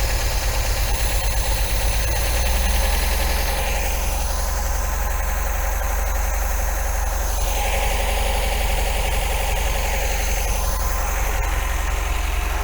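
An MGB engine idling after its carburettor mixture has been adjusted, a steady low rumble with a fairly even beat, close and continuous with no talking.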